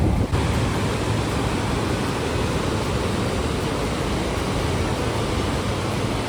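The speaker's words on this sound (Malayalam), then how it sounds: "ഈ ഒരു അരുവി കളകളാ ശബ്ദം ഉണ്ടാക്കി ഒഴുകുന്നൊരു അരുവി" A mountain stream beside a trail at Jogini near Manali rushes in a steady, dense wash of water that holds level and close throughout, with no pauses or voices.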